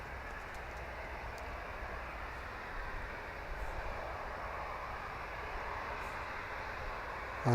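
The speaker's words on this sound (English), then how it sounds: "it sounds to me like Jet 2 is just spooling up a little bit" Jet2 airliner engines at Manchester Airport spooling up, a steady broad distant roar that swells slightly midway, heard from outside with no talking.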